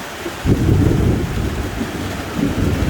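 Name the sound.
thunder rumbling during a storm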